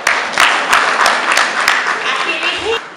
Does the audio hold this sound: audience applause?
yes